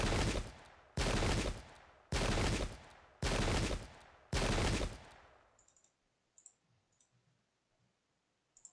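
Musket volleys in a pike-and-shot era battle game, five loud sharp cracks in regular succession about a second apart, each decaying quickly, then quiet with faint scattered ticks.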